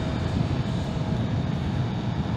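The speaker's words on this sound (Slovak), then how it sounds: "jazdenie na motorke" Yamaha MT10SP motorcycle engine droning steadily while riding, a loud, continuous low rumble mixed with rushing wind noise, heard close and without pause.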